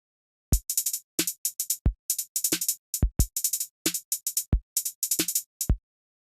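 Randomly generated hi-hat pattern on a drum sequencer, with irregular clusters of bright ticks over kick and snare hits, a choppy, uneven electronic groove with no talk.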